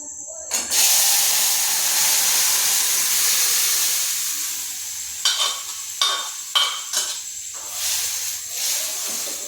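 Cooked chana dal is poured into a hot pan of cumin and chili tempering. Loud steady hissing steam and sizzle, broken near the end by several sharp splashy bursts as more is added, with no talk.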